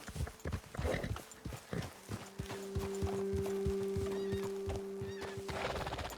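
In Red Dead Redemption 2, horse hooves clip-clop steadily at close range while a horse lets out a long, tonal neigh in the middle.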